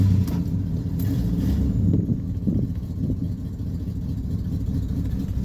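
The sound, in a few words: Ford big-block V8 engine idling after cold start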